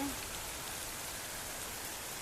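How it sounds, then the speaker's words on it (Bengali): Heavy monsoon rain falls in a dense, steady hiss, a constant wash of drops with no breaks across the short stretch. "কি পরিমাণ বৃষ্টি হচ্ছে দেখো"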